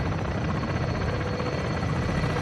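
Helicopter rotor from the video game Modern Warfare 2, a steady loud whirring thrum that holds without a break, close and alone with no talk over it.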